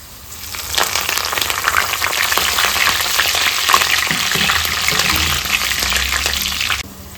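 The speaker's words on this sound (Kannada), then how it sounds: "ಬೆಳ್ಳುಳ್ಳಿ ಈ ರೀತಿಯಲ್ಲಿ ಫ್ರೈ ಆಗಬೇಕು ಇವಾಗ ಕರಿಬೇವು ಸೊಪ್ಪನ್ನು ಹಾಕೊಳ್ತಾ ಇದ್ದೀನಿ" Garlic and curry leaves frying in hot oil for tomato pickle, a steady dense sizzle with scattered crackles and pops running for several seconds before cutting off near the end.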